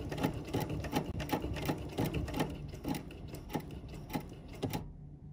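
A BERNINA sewing machine fitted with a button sew-on foot stitching on a button, running in a fast, steady rhythmic chatter of needle strokes up close that stops abruptly at the end.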